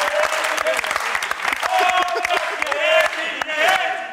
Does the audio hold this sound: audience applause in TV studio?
yes